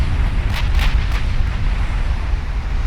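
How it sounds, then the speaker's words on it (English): Warship turret blowing up in Ultimate Admiral Dreadnoughts: a dense, continuous explosive roar with a few sharp crackling bursts early on, loud and steady throughout. "One of their Q turrets blowing up."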